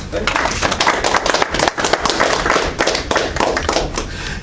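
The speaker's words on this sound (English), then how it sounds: "let's give him a round of applause" A seminar audience applauds after a talk on a BJT phase shift circuit, a dense close patter of many hands clapping that runs on steadily with a few voices mixed in.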